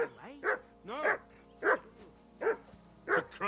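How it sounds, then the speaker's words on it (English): Dog barking in the medieval world of the video game Kingdom Come: Deliverance II, five loud, close barks spaced roughly evenly over a few seconds against a low game background. "I assume you can hear that damn dog of yours barking."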